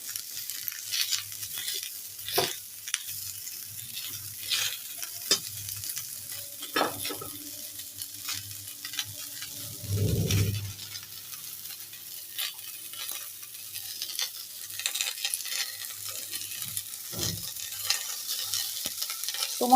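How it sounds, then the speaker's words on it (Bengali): Cauliflower is stirred and fried in oil with a quiet, steady sizzle, repeated spatula scrapes and knocks against the pan, and a brief louder burst of sizzling about halfway through. "ফুলকপিগুলো একটু ভালো করে না ভেজে নিলে একটা সবুজ সবুজ গন্ধ ছাড়ে, সেই জন্য বেশ কয়েকবার তেলের মধ্যে নেড়ে নিয়ে"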